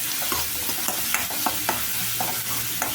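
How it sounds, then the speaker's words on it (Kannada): Chopped onions fry in oil in a pan as they are stirred toward brown, giving a steady close sizzle with regular light clacks and scrapes of the spoon against the pan. No one speaks. "ಸ್ವಲ್ಪ ಕಲರ್ ಬ್ರೌನ್ ಕಲರ್ ಆಗೋ ತನಕ ಫ್ರೈ ಮಾಡ್ಕೋಬೇಕ್ರಿ"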